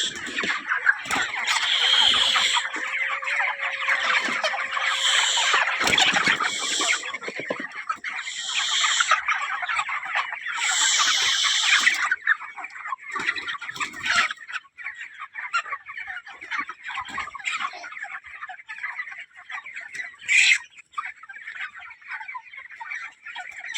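Chickens on a poultry farm, 32-day-old birds that stagger and cannot walk, give a dense, continuous chorus of clucking and squawking at close range, with brief louder calls rising over the flock.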